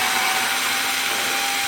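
A cordless power driver runs steadily as it sinks long screws, giving a loud, continuous close whine with no breaks.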